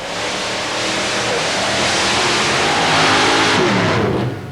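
A paddle-tire mud racing vehicle at a 1990 Bayou George, Florida event roars and accelerates under load in a loud, sustained engine rush that rises toward the end, close and dense, with faint crowd or announcer voice beneath.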